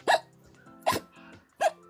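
Three sharp hiccups, evenly spaced and close, with short quiet gaps between them and no talking.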